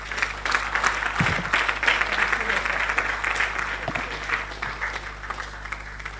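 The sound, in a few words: audience applause for keynote speaker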